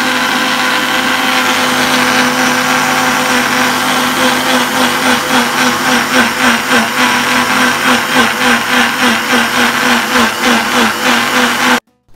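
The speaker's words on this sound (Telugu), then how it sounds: "దీన్ని బాగా మిక్సీ పట్టి వెన్నపూసని బయటకు తీసుకోవచ్చు" A mixer grinder churns cream and water into butter, running as a loud, constant motorised whir with a rhythmic pulsing slosh throughout before cutting off abruptly at the end.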